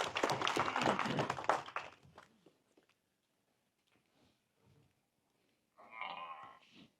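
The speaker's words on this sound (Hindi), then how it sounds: "तो इजाज़त जोरदार ताली बजा दी जाए।" An audience at a Ramadan talk honouring a guest breaks into loud, dense applause that fades away over about two seconds, followed by near silence and then a voice.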